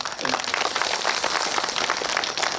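Audience applause at the opening ceremony of a Chuseok village song festival, a steady crackling wash of clapping from a crowd honoring three guests, close and fairly loud.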